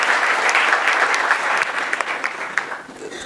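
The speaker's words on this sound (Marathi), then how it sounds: "एकदा जोरदार टाळ्या झाल्या पाहिजे जयराज सरांसाठी." A poetry recital audience breaks into loud, dense applause that holds steady for about three seconds, with a few sharper individual claps near the end and no voice over it.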